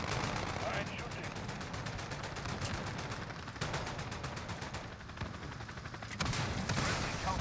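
An M4A1 rifle in Modern Warfare fires in rapid automatic bursts, dense and sustained, with brief pauses between strings of shots, heard fairly quietly under game announcer callouts.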